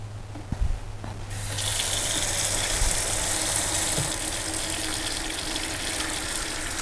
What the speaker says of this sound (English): I'm going to start filling this up with water